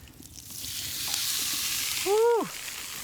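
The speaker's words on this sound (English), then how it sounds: "we'll get a little sizzle here" Steak sizzles in a hot pan with a steady, broad hiss, joined near the end by a short high squeak.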